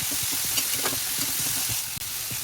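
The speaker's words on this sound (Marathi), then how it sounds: "व्हेजीस लवकर सॉटे होतील, म्हणजे लवकर शिजतील" Salted vegetables sauté in a pan with a loud, steady sizzle and hiss, broken by soft stirring scrapes, close up with no voices.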